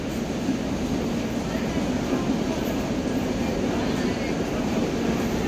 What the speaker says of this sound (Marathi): local arrive on platform number 5